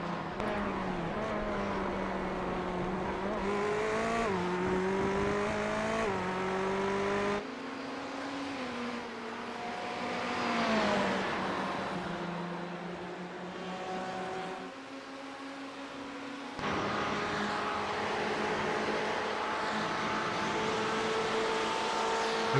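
Race car engines in a sim racing game at Road Atlanta, with a Porsche among the cars, whine and shift gears continuously, several engines overlapping with rising and falling pitch as cars battle closely, loud and steady throughout.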